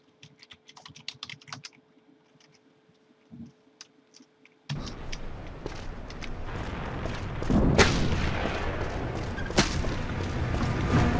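Explosions and gunfire from the shooter game Iron Storm during a mine-versus-tank fight: quiet scattered clicks at first, then a sudden dense roar of battle noise with two sharp, loud blasts standing out.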